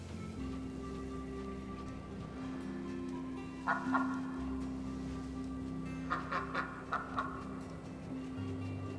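Ducks in the game Lost Ember give a few short honking quacks, one brief burst early and a quick run of four or five calls later, fairly faint over a steady low ambient hum.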